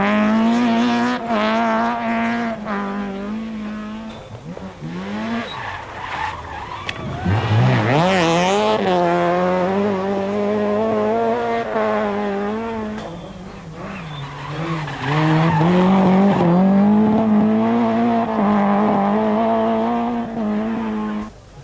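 Formula 2 rally cars race loudly along a Donegal rally stage, engines revving up and down through gear changes with occasional tyre squeal, close and continuous as cars pass one after another.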